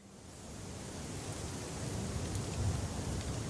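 Rain falls steadily on a forest, a soft, even hiss of drops with no birdsong, recorded in the field and staying faint and unbroken throughout.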